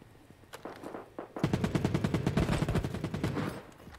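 Rapid automatic gunfire from a light machine gun in the shooter game Battle Prime: a few scattered shots, then a long, dense, rhythmic burst of loud, close fire lasting several seconds before tapering off.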